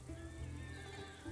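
A horse whinnies inside the strategy game Humankind, a short, close, stretched call over a steady low game-music bed with no speech.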